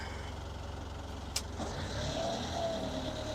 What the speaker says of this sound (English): So I'm going to go ahead and put it in gear, throttle it up.